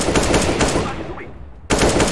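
Loud automatic gunfire in the video game CS:GO rattles in dense rapid bursts, breaks off for a short moment, then resumes just as fiercely.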